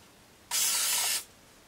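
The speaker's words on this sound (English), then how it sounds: "So I'm gonna grab my basting spray and I'm just going to give the batting a quick little spritz." A can of quilt basting spray gives a single short, close hiss of about 0.7 seconds as it spritzes quilt batting, with quiet room tone before and after.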